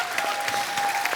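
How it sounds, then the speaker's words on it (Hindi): A studio audience at a comedy show featuring Krushna Abhishek and Kiku Sharda breaks into a brief, dense burst of clapping, loud and sustained for about a second. "तुषार, कीकू और कृष्णा के लिए जोरदार तालियां।"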